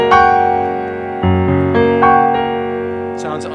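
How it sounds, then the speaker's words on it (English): Sustained, rich chords that blend jazz and contemporary classical harmony ring out loudly, shifting to new voicings a few times, with a brief thin burst of noise near the end. "You hear something cross between a jazz chord"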